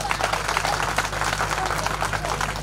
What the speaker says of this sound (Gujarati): તાળીનો ગડગડાટ કરો એની ઉપર.